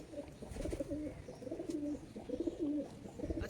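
Kalanka pigeons, a male and a female, cooing repeatedly in low, throaty phrases close by, with steady outdoor background noise and no talk.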